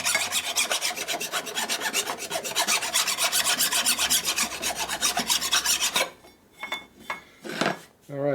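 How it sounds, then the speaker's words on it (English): A file rasps rapidly back and forth deburring a welded Harley panhead D-ring, fast rhythmic metal strokes for about six seconds, then a few scattered scrapes and handling sounds, close up. "Alright, how good's Rick gonna deburr these and clean them up?"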